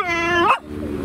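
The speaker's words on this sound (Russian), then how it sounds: "Люсенька, собачка, охраняй там, сиди." A small dog, heard inside an old Volkswagen Jetta, gives a high whimpering whine that rises into a sharp yip, then a softer whimper. It is loud and close, with no voices.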